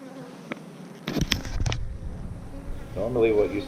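Honey bees buzzing around an opened Apimaye hive during an inspection and split, a steady close drone with sharp thumps and handling knocks midway and a voice briefly near the end.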